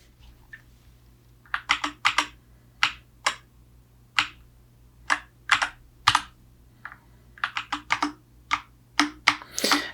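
Typing on M75 and RK96 mechanical keyboards produces crisp, close key clacks in irregular bursts and single strokes over a low steady hum, with no talking.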